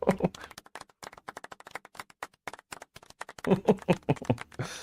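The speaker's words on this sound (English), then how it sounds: "Golf clap." Light, scattered hand claps in a soft, uneven patter of a golf clap, close and fairly quiet, with a brief livelier burst toward the end and no talk.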